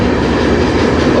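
A CN freight train passing by a river rumbles loud and close, steady and unbroken over a short moment.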